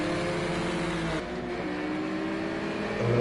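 Porsche GT4 race car in a racing video game at Indianapolis, a steady loud engine drone with tonal whine, dipping briefly then rising toward the end as it heads into a slipstream.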